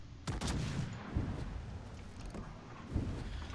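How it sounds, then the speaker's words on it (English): Rapid secondary guns aboard the battleship Napoli blasting away in a naval combat game, a run of sharp, booming shots stacked over a constant roar of battle, with heavier bursts near the start and again toward the end. "There we can see the Napoli secondaries going to town on me."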